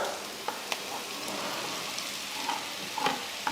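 An onion and tomato masala fries and is stirred in a pan, giving a quiet, steady sizzle broken by a few faint clicks of a spoon against the pan.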